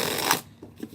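Zombie tarot cards with stiff card stock are shuffled in a quick riffling burst that stops abruptly, followed by a couple of soft taps as the deck settles, close and fairly quiet.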